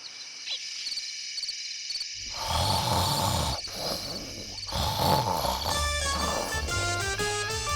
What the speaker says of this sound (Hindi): ऐसे खर्राटे ले रही है जैसे बाघ गुर्रा रहा है।